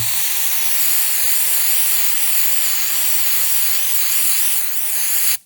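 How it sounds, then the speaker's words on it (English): A loud, steady hiss of aerosol cleaner sprayed onto a Toyota RAV4 throttle body runs continuously for several seconds up close, then cuts off abruptly. "So I'm going to keep spraying."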